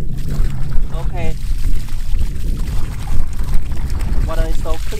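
Water gushing from the outlet of a drum water pump feeding a small waterway, a steady broadband pour running throughout, with a voice talking over it now and then.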